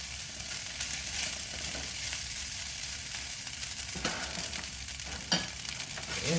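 Fried rice sizzles steadily in a hot pan while a utensil stirs and scrapes through it at intervals, with one sharper clack; close, continuous frying with no talk.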